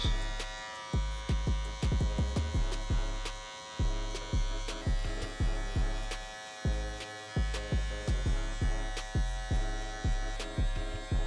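Electric hair clippers run with a steady buzzing hum while fading hair on a beginner's mid fade, the motor tone dipping and rising repeatedly in short, regular strokes, close and loud, with no talking.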